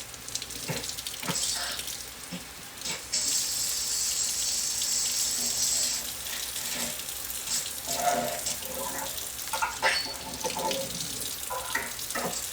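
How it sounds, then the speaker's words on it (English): Warm tap water runs into a kitchen sink as tomatoes are washed under it, a close, steady gushing stream with shifting splashes as they are turned under the flow. "And then I'm gonna wash it with warm water."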